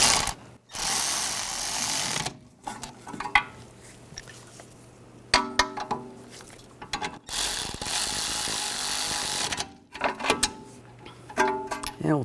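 Ratchet wrench clicking in repeated bursts while snugging rear brake caliper bolts on a 2009-2017 Volkswagen Tiguan, with metallic ratcheting close up and short pauses between runs.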